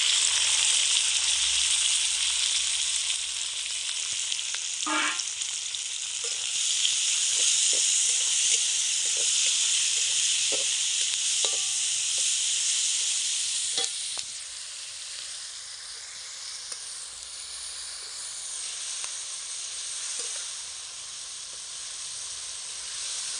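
Garlic, ginger, green chillies and tomato sautéing for a squid roast, a loud continuous hiss and sizzle with a few spoon taps, easing slightly partway through, no talking.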